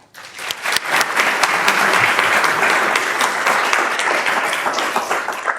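Lecture audience applause welcoming the speaker at the Tom Austen Brown Memorial Lecture, a large crowd clapping loudly and steadily that swells quickly and holds throughout.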